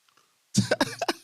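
Sharp throat clearing after a near-silent opening, a burst of four or five quick, rough hacks in a row, close and fairly loud with no talking.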